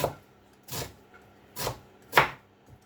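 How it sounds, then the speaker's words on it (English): A knife finely chops fennel on a board, four distinct crisp thuds spaced roughly evenly apart, close and clear with no talking. "I've got some fennel here, which I've literally just used a mandolin, and then I'm going to finely chop these as well"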